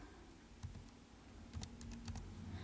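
Someone types a passcode on a computer keyboard: a quick run of crisp, close key clicks over a low steady room hum, with no talking.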